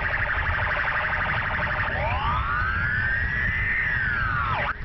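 A loud electronic alarm from an emergency call post wails continuously, then a rising-and-falling siren tone sweeps up and slowly back down before cutting off.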